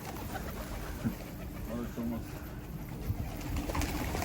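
Domestic pigeons, including a yellow-marked tumbler type, cooing softly in short low bursts across a loft, with scattered wing and body noise and a faint voice in the background.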